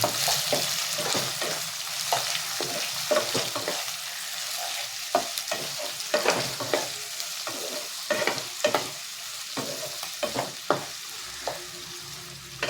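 Ginger, onion and garlic sauté in a pan, a steady sizzle broken by repeated sharp scrapes and clinks of a spatula stirring, close and fairly loud with no voices.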